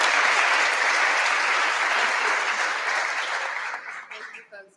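Audience applause welcoming a speaker at an NYU School of Medicine talk on psilocybin and mushrooms, a dense sustained clapping that holds steady and then thins and fades toward the end.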